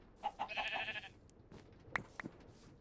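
A sheep in the Minecraft video game bleats in a short wavering burst, followed by a few faint clicks and soft game sounds.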